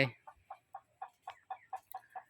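A chicken clucks in a steady run of about ten short, evenly spaced calls, close and moderately loud, kept apart from the rest of the flock at a resort.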